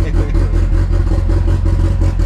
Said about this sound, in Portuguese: O barulho é bom demais. Andar de carro turbo